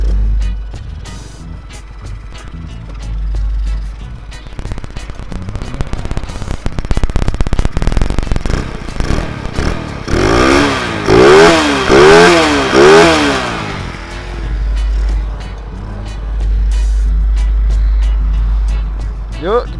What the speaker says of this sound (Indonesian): kita dengarkan suara awal starter.